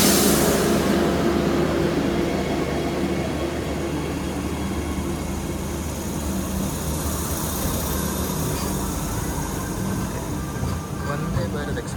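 A Vande Bharat Express train rushes along while accelerating, giving a broad, continuous rumble and roar that swells early on. Someone talks over the noise for much of the time.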